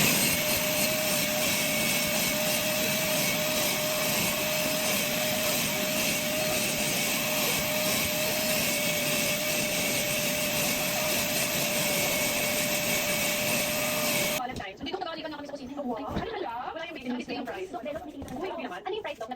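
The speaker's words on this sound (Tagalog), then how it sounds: "So, guys, kailangan nating i-vacuum ito dahil pagkarumi." A vacuum cleaner runs loud and steady, cleaning a dirty room, then cuts off abruptly near the end.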